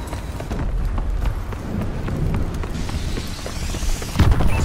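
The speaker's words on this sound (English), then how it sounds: "Friendly missile strikes inbound." Missile strike explosions in Call of Duty: Advanced Warfare multiplayer, a dense rumbling barrage of low booms and crackling blasts running throughout, with a heavier, louder impact near the end.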